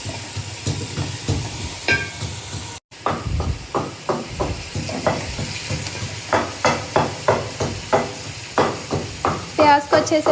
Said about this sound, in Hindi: ये मैं अब घी डालूँगी।